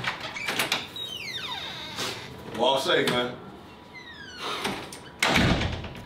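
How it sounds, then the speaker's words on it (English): A door is opened and shut indoors, with thuds and rattling amid loud, close talk from several people; a final heavy impact near the end suggests the door closing. "Complicated ass door."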